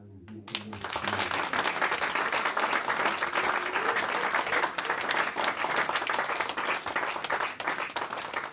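An audience applauds in a dense, steady wash of clapping that starts abruptly and holds loud and even for several seconds, with no voices.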